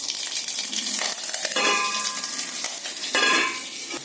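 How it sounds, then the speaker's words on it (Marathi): Garlic, curry leaves and chillies sizzle in hot oil with cumin, mustard and fenugreek seeds, a loud, close, crackling fry broken by a few sharp metallic clinks of a spoon against the pan. "यात आपण जिरं मोहरी आणि मेथीचे दाणे टाकले आता या लसूण कढीपत्ता आणि मिरची"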